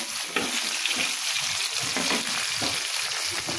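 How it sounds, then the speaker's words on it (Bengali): Banana and brinjal pieces fry together in hot oil, giving a continuous close sizzle and crackle with no talk. "এখানে আমি কলা ভেজে নিচ্ছি, তা কলার পাশে একবারে বেগুন দুটোও ভেজে নেব।"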